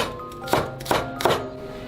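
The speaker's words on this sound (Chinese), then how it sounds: "香葱取葱白切碎" A knife chops scallion whites on a cutting board with three distinct, evenly spaced thuds at close range against a quiet background.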